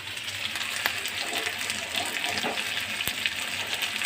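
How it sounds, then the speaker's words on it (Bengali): Hot water poured into a pan of chicken curry: a brief splashing gush over faint sizzling from the pan, with a small clink partway through and no talking. "আমি গরম জলটাকে এবার অ্যাড করে দেবো।"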